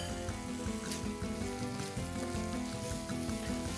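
Tomatoes, peppers and corn sizzle and fry in a paella pan for a cashew nut paella, a steady close crackling hiss with a low rhythmic bubbling running throughout, no voices.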